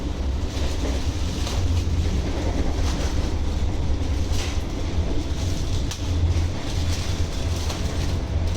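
Steady, loud rumble of a Vande Bharat train running between Chennai and Coimbatore, heard from inside the carriage, with continuous low roar, rattling and faint clicks throughout and no voices.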